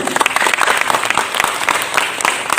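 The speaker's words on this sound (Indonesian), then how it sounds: "Jadi tepuk tangan untuk beliau." An audience at a Hindu religious gathering claps steadily and loudly, a dense sustained applause with no pauses throughout.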